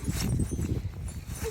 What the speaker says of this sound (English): Is that your footsteps?